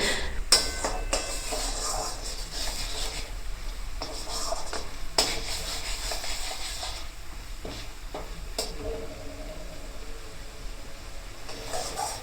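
Tomato paste mixture for potol korma being stirred in a pan: a continuous close sizzle with repeated scraping strokes and occasional sharp clinks of the spoon against the metal, fairly loud throughout.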